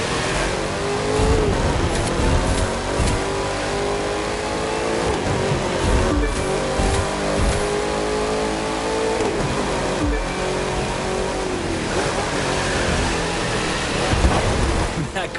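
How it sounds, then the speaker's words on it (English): A sleeper car's engine revs hard and accelerates in The Crew 2 racing game, a loud continuous roar whose pitch sweeps up and down through gear changes over a steady rumbling, hissing background. "That car's really moving."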